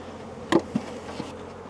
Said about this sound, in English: Got a few bees hiding in the feeder there.